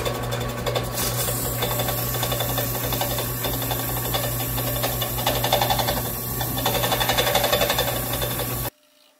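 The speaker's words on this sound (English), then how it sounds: "So we'll go ahead and get these drilled out." Power drill boring holes in wooden blocks for a face mask drying rack, a steady droning whir running continuously for about nine seconds before cutting off abruptly.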